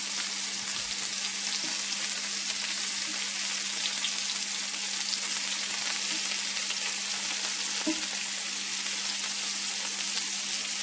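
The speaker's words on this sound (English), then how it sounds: "we're just going to build a crust all over all the sides of the meatball" Meatballs fry in a pan, browning on all sides with a dense, steady sizzle and crackle close by. A low constant hum sits beneath, a few louder pops break through, and no one speaks.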